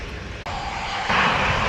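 An aeroplane engine roars at an airport, a loud, steady broadband drone that briefly dips and then swells louder, close and continuous with no talk over it.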